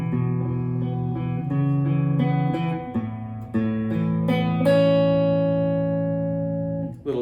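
An electric guitar plays the main riff of a song as a chain of clean, ringing notes, each sustaining into the next, then a final note held until it fades, with no talking.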